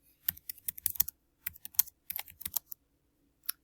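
Keys on a computer keyboard are tapped in quick, uneven bursts of clicks, close and quiet, with short pauses and a lone final keystroke after a gap.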